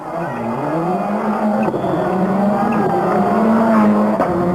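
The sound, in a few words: rally car racing on a stage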